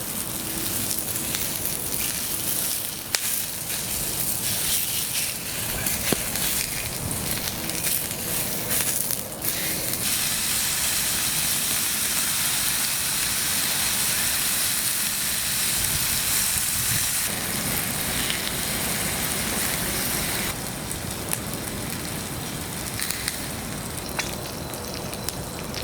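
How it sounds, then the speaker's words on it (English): Bacon and sausages frying over a camp fire outdoors, a dense continuous sizzle and crackle like heavy rain, loud and close, running steadily throughout with occasional sharper pops and small shifts in texture. "So bacon's just cooking behind me, guys. Got the sausages on."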